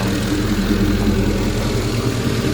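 A car engine idles steadily up close, a deep continuous rumble with a low throbbing pulse while the car is under repair after being declared a total loss.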